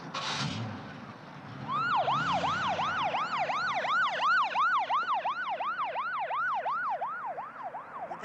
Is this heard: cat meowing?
no